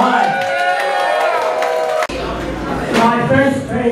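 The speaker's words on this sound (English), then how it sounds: "Can we all please give another round of applause to your five amazing Kingsters" Audience cheering and applause at a Pride of the Hide contest, a loud crowd roar with whoops that carries through the whole stretch and swells again near the end, with voices calling out across it.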